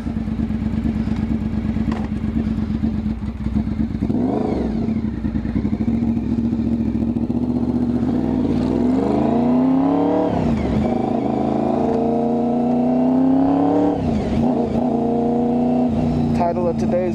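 A Honda VFR750 motorcycle engine idles close and loud in a steady low hum, with a few throttle blips rising and falling in pitch as someone talks over it.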